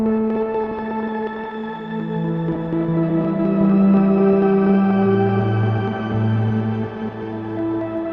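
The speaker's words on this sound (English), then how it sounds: "I just wanted to let you listen to what a pad sounds like" A sustained synth pad runs through a Pigtronix Echolution 3 delay pedal, smooth layered tones slowly shifting chords with echoing repeats, swelling and fading gently, alone without talk.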